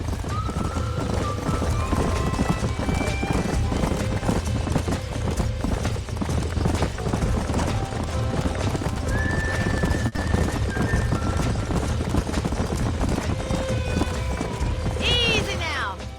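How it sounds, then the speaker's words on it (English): Horses clip-clop steadily and occasionally neigh at a ranch farm in the video game Red Dead Redemption, with hoofbeats continuous and fairly close and a whinny near the end, under ongoing speech. "These are fine horses."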